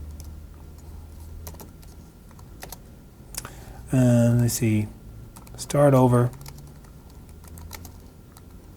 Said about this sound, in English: can't type on this little tiny ass keyboard